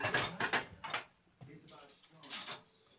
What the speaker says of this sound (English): I'm going to get a spoon out of the dishwasher.